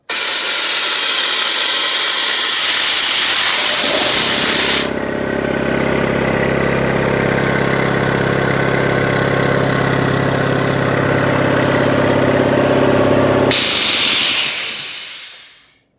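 An SO-7B air compressor with a check valve is started. A loud hiss of escaping air gives way to a steady mid-pitched motor hum with a clear tonal drone. The hiss bursts back near the end, then the machine winds down to silence.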